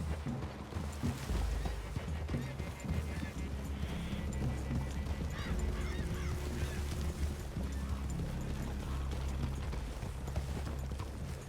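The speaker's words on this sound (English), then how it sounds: "I'd leave your horses the other side of this clearing" Horse hooves clip-clop in the Red Dead Redemption II video game as riders move through a forest clearing. The hoofbeats are soft and irregular under voices talking, with a horse snorting or whinnying at times.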